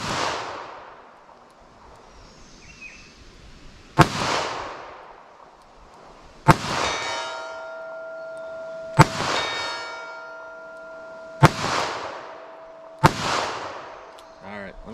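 A handgun fires 32 H&R Magnum hand loads at steel targets 75 yards away at an outdoor range. Five sharp reports ring out a few seconds apart, each followed by a metallic clang from the steel plate.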